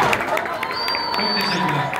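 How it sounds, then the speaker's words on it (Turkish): A crowd at a film premiere gala on stage in 2018 claps and cheers, a busy mix of hand claps, voices and babble, with a whistle-like tone rising above the noise partway through. "O zaman öyle kocaman bir alkış öyle havaya."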